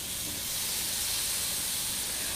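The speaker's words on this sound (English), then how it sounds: "You guys can hear the sizzle, right?" Steady, dense sizzling hiss of chicken tenders cooking on a hot grill, close and continuous throughout.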